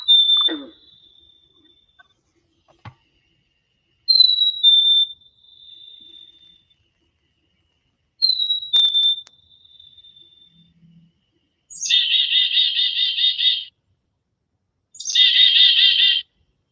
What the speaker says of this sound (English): Let's hit the chickadee now.